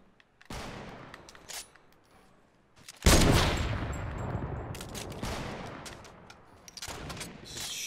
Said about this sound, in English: This is a stupid sniper fight.